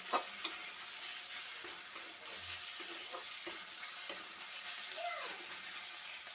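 Spices stirred into a pan of frying food, a steady sizzle running throughout with scraping stir strokes, close and moderately loud, no one talking.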